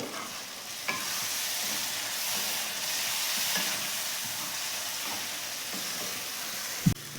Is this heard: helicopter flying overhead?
no